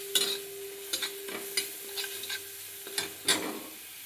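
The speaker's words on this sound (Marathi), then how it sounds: "मस्त असं भाजून घ्यायचं" Stuffing for okra roasts in a pan while a spoon scrapes and stirs it in regular strokes, each stroke a short scratchy rasp over a low sizzle, close by and with no voices.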